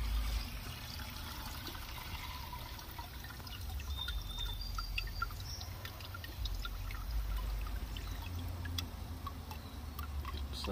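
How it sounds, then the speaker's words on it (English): Acid drains and drips from a bucket used for cleaning Nehalem River agates, giving a faint, continuous trickle with scattered small drips, close by and with no voices. "Let it drip for a while."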